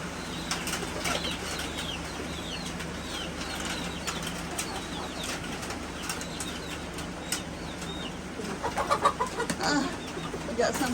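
Chickens flap their wings in a coop while animals are being readied for a hurricane, quick irregular bursts of flapping over a steady low background, with scattered soft clucks and a louder flurry near the end.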